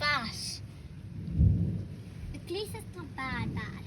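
Thunder rumbles low and heavy in the middle of a rainstorm while rain patters steadily underneath, and people, including a child, talk over it nearby.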